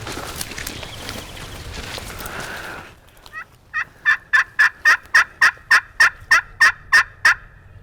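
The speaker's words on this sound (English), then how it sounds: "there's another bird gobbling up to the north" A wild turkey gobbles in southern timber, a rapid run of about a dozen sharp, evenly spaced notes heard in the clear after a stretch of rustling ambient noise.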